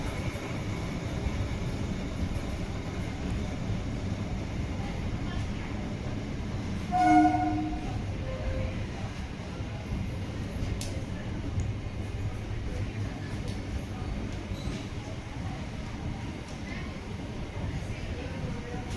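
An EMU suburban train at Tambaram station in Chennai gives a steady, close rumble of rolling carriages throughout, with a brief tonal horn-like blast near the middle.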